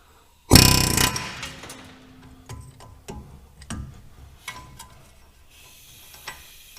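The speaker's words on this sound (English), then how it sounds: "when you're using an air hammer like this" A sudden loud burst of rapid air hammer blows on a Chevy Malibu wheel, followed by scattered shorter bangs and metallic clatter; no voices.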